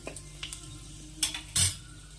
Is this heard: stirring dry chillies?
yes